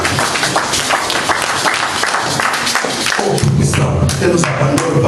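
A church congregation claps and cheers in praise of Jesus, with loud, sustained applause and a crowd swell running throughout, thumps and voices mixed in.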